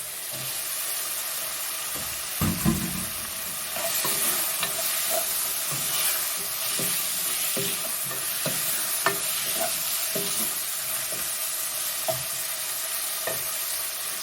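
Ground meat for a meat pie fries in a pan with a steady sizzle, broken by repeated scraping strokes as it is stirred; nobody speaks.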